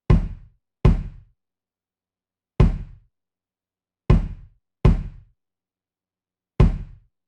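A kick drum in a living room picked up by a mic just in front of the drum: six single deep thumps at uneven intervals, each with a short room decay, then silence between hits.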